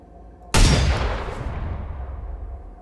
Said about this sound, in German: Oh, ein Schuss!